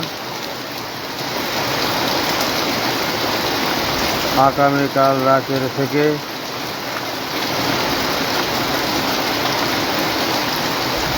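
Heavy, nonstop morning rain in Comilla pours as a dense, even roar throughout, with a short burst of speech in the middle.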